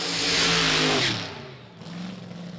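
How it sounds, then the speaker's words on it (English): A drag racing car fires up at a motorsports park and revs hard, a loud broad roar with rising harmonics that drops briefly, then settles into a rumbling idle nearby. "All right, Koski's car coming to life."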